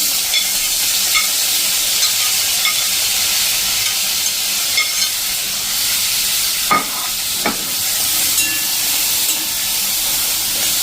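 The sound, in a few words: chopped tomatoes frying with garlic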